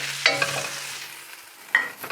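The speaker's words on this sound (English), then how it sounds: "Just slightly stir fry all of the shiitake mushroom." Chopped shiitake mushrooms stir-fried in a pan, with two short scraping, sizzling bursts of spatula stirring over a low hum and quiet background.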